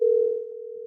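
A brief, steady telephone tone heard during a phone audio test, loud and unbroken at first, then fading slightly and holding on its own with no talking.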